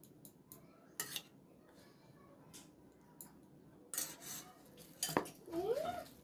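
A spoon scraping and clinking against a pan while halwa is stirred and roasted over a medium flame, with sparse irregular taps and scrapes, fairly quiet and close.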